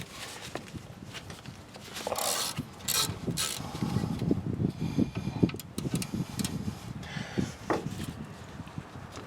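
A ratchet wrench loosens the two 10mm rear brake caliper bolts on a Nissan Titan, giving uneven bursts of metallic clicking and clacking with scrapes of tool on hardware, close and moderately loud.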